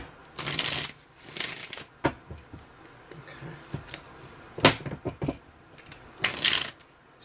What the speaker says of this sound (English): I shuffle more when I first pick them up